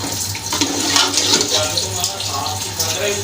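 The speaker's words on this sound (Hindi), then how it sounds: "ये पानी डाल दिया, इसमें ऐड कर दिया" Water pouring into a cooking pot while making chicken dahi, a continuous splashing stream with someone talking over it.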